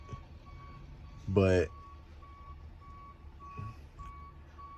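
A truck pulling up to a gate at an Amazon Relay loading site, with a short burst of loud reversing beeps near the start, then quieter idling and distant traffic hum while someone says a word.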